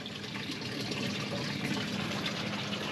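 Water runs steadily from a hose or tap while a backyard corn patch is watered, a continuous even gushing hiss with no pauses and no talk.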